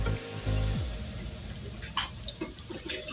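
Spices stirred into a frying kofta curry base in a pan: a low sizzle with scraping spoon strokes and a few wet clicks, close and moderate, with no talking.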